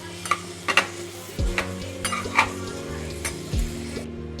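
Chopped coriander and garlic frying and being stirred in a pan for palak (spinach) chicken, with a steady sizzle and repeated scraping stir strokes, close and moderately loud.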